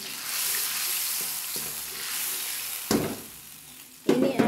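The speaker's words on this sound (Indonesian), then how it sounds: "kita goreng sampai matang ya" Blended spice paste for pindang tutut fries in a pan with a steady, close sizzle, broken near the end by a couple of louder bursts of stirring or spattering.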